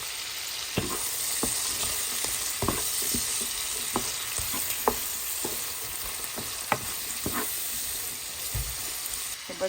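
Spring beans stir-fry in a pan for chicken chow mein, a steady close sizzle punctuated by repeated scraping and tossing clicks of a spatula.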